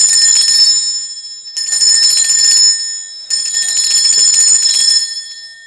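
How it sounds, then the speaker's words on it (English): A handheld bell rung to cleanse a space strikes three times, each loud, bright ring sustaining for over a second before the next, with no talk over it. "I am going to ring this bell."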